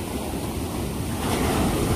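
Steady roar of ocean surf washing onto shore, heard from a rooftop, loud and continuous, with wind buffeting the microphone.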